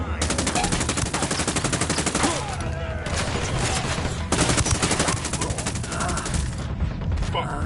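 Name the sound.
gunfire exchange between rebels and cartel in Ghost Recon Wildlands video game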